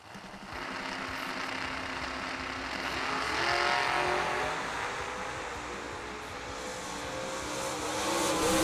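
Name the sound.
drag racing cars, Chevrolet Lumina and Camaro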